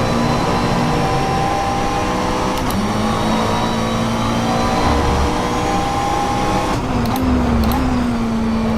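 McLaren 720S GT3 race car in rFactor 2 at Circuit de Catalunya, its engine droning steadily with pitch shifts as it accelerates and changes gear, loud and continuous throughout with no talking.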